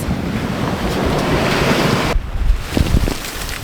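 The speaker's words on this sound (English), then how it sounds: "It's consistent 20-21 knots of wind as well." Strong wind of around 20 knots roars across the microphone while choppy waves slap and wash around a sailboat beating upwind at sea between Guadeloupe and Martinique, loud and continuous.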